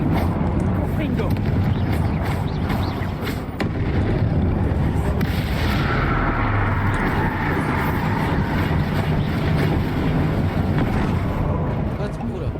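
Confringo fire spell blasts during combat in Hogwarts Legacy, loud booming bursts and rumbling impacts layered under constant game noise, with a player speaking over the action.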